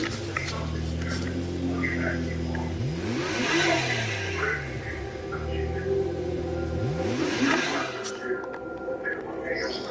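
A Nissan GT-R engine in a video game, revving up in two rising sweeps that climb and fall through the gears, loud and close, with a person talking over it.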